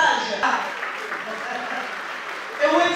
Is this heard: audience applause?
yes